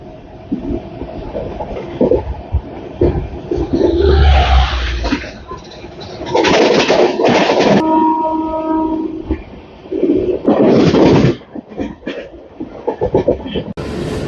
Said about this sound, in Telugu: మన ట్రైన్ స్పీడ్ ఇదండి అంత స్పీడ్ లేదు